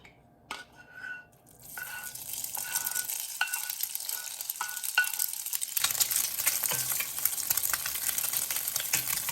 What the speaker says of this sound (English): So I'm heating up the fat.